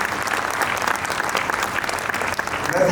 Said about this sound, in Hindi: और एक बार मेरा राजू जी और इनकी टीम के लिए पूरी जोरदार तालियां बजा दीजिए।